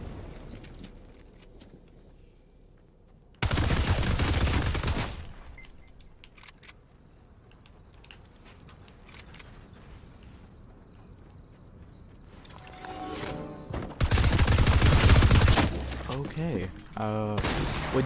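Gunshots in a Fortnite match come as two loud, dense bursts of fire, one early and one near the end, separated by quieter in-game ambience, with a player speaking over the action.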